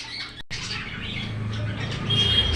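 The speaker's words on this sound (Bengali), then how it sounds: "বাড়িতে বদ্রি পাখি আছে, বুঝতেই পারছেন, পাখিগুলো কিচিরমিচির করছে" Pet budgerigars in a home squawk and chirp in sharp, scattered bursts with thin high calls, mid-distance over a low steady background hum.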